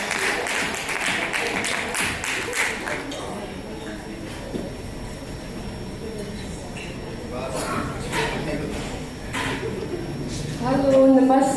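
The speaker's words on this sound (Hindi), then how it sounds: "प्लीज जोरदार तालियां सिसी के लिए" Applause from an awards-night audience in Lucknow cheering a winner, a dense burst of clapping over the first few seconds that gives way to a voice speaking and crowd murmur, with a louder swell near the end.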